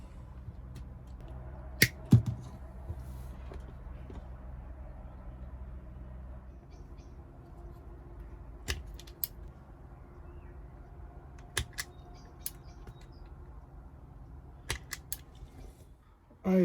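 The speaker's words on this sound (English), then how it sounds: "So I am cutting it away and making another type of connection." Wire for an OMC outboard electric shift switch being cut, with a few sharp, isolated snips and clicks scattered over a low steady hum, close and quiet.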